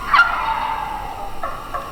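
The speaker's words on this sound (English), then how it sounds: "That's a different turkey yelping back at him." A wild turkey hen yelps in the early morning just after coming down off the roost, a loud close call at the start, then quieter, farther yelps trailing off.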